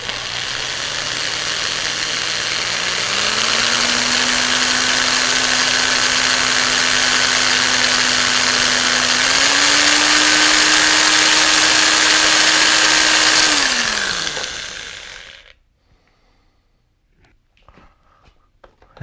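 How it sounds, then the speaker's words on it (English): An electric drill whines loudly and steadily for about fifteen seconds while failing to drill through plastic on a Ranger 2000 model aircraft, pitch stepping up twice, then winds down and stops, leaving near silence. "drill through this plastic"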